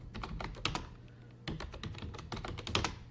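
Computer keyboard keys tapped in quick, uneven bursts while logging in to a CentOS Linux system, close and clear clicks with short pauses between groups of strokes.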